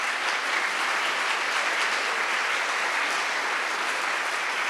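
A crowd applauds continuously, a dense steady wash of many hands clapping at once, heard from within the audience.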